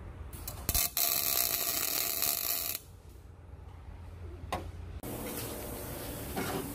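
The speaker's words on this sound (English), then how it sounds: "go ahead and tack that in" Tack welding a roll cage tube on a Mazda Miata in a fabrication shop: short bursts of crackling, spraying hiss, several separate tacks with quieter shop noise between them.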